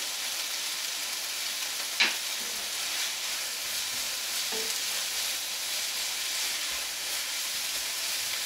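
Vegetables and thyme sizzling in a pan while cooking chicken cacciatore, a steady broad frying hiss running throughout with a brief sharp clink near the start and a faint knock later, no voices.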